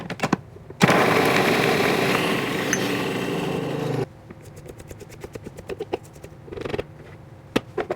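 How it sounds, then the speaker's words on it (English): A food processor minces garlic cloves with salt, whirring loudly and steadily for about three seconds before stopping, then followed by scattered light taps and clicks. "get our garlic cloves in our food processor, along with our teaspoon of salt"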